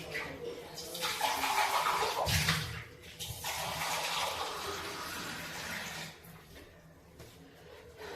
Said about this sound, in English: So the next step is you have to add some water to this.